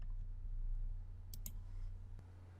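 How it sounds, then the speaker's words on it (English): A computer mouse clicks on an exit button, giving a quick pair of sharp, close clicks over a low steady hum, followed by one fainter tick. "I'm clicking on exit button."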